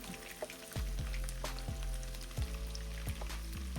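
Garlic cloves lightly toasting in oil in a pan for aglio e olio spaghetti, a soft steady sizzle with small crackling pops, close and quiet, with no talking.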